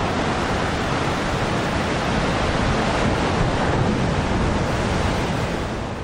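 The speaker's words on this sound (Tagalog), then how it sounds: "Maaga pa lamang ramdam na ang gupit nito sa dagat sa Camarines Sur kung saan naglalakihan ang mga alon." Super typhoon winds batter the sea off Camarines Sur, a dense continuous roar of wind and big crashing waves filling the whole span at steady high loudness.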